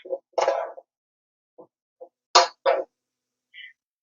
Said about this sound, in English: It is now time to add in our chopped apples. Give those a stir.